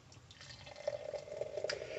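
Oskar Blues hazy imperial beer pouring into a glass, with a steady liquid trickle and splashing as the glass fills, close and fairly quiet.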